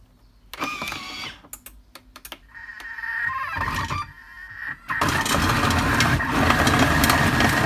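A Thermomix kitchen machine runs in reverse at speed 2.5 while cooking, with a few clicks and button beeps before its motor starts and settles into a steady, close mechanical hum.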